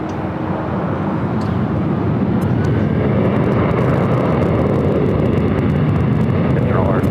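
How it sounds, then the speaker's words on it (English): A Boeing 737-800 airliner arrives at Los Angeles International Airport, a loud continuous jet roar that holds steady and swells slightly throughout, with broadband rumble and no talk over it. "Next arrival here on the north side is Alaska Airlines Flight 1287 coming in from Seattle. It's a 737-800."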